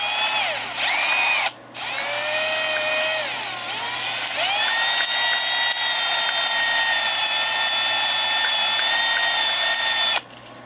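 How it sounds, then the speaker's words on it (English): A small power tool polishes a Honda CT70 cylinder head part with 600 grit, giving a loud, close, steady whine that shifts in pitch, briefly cutting out near the start and stopping at the end. "Just gonna give it a little polishing with that 600 grit."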